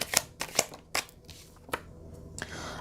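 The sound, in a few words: tarot cards being drawn and laid out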